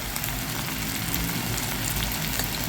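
Onion, tomato and spices sauté in hot oil for dal khichdi, giving a constant dense sizzle and crackle, close and even throughout, with no voices.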